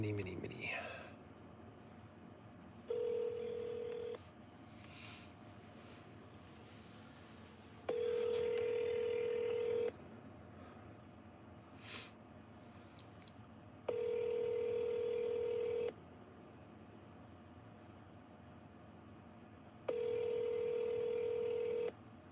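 A telephone places a call to a Mini Cooper dealer: four long, evenly spaced electronic tones come through a quiet line, with faint rustling and breathy sounds between them.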